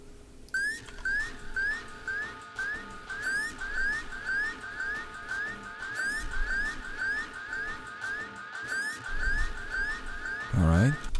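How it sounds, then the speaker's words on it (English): Whistle sample from a hip-hop/electronic mix, a repeating sequence of short bright whistled notes in a steady rhythm over a soft beat, ending with a quick rising-falling whistle flourish. "moving on, we have our whistle, which sounds like this"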